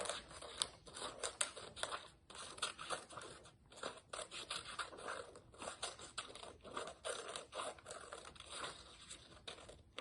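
Scissors snip along a final black line on paper in an art class, quiet, close, steady clusters of crisp cuts with crinkling paper between them, running continuously.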